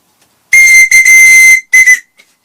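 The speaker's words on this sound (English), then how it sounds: "I put a wooden whistle on for him, which to me, fantastic, good sound off these whistles" A wooden whistle fitted to a walking stick gives three loud, shrill, steady blasts, the first two close together and the last shorter after a brief pause.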